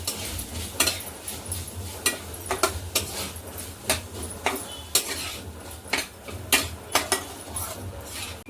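Spoon clinking and scraping in a pan while garam masala and crushed peanut powder are stirred into cluster beans, irregular metallic taps and scrapes repeating steadily at close range with no talk.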